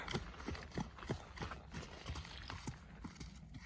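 Horse hooves in a steady canter, rhythmic three-beat clip-clop repeating close by across the whole stretch with no voices.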